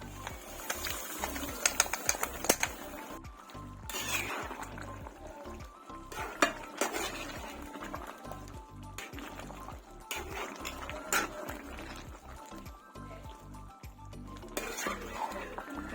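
Sautéed onions are stirred into chicken kurma in a pan, with scattered scraping and clinking of a utensil against the metal, irregular and close, and a quiet rattle in the background.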